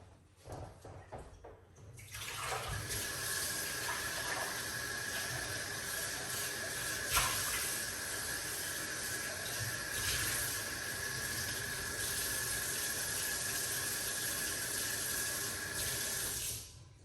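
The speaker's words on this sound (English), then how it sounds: "So let's wash off the banana underneath the top. We're gonna rinse it off now." Tap water runs steadily over a banana for rinsing, a continuous broadband splashing hiss that starts after a brief quiet moment and holds level to the end, with no talk over it.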